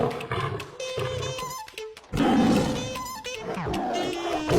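A leopard roars in a series of loud, raspy growls with short pauses between them, fairly close and heard on its own.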